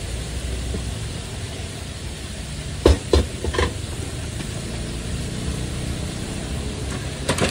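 Chicken pieces, around thirty at once, fry in a pot of oil filled to the brim, giving a steady loud hiss with a few sharp clatters and bumps partway through.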